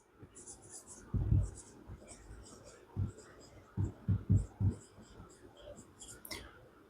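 An equation handwritten during a physics lesson on Kepler's laws of planetary motion, heard as soft, scratchy strokes with a few dull taps, close and fairly quiet.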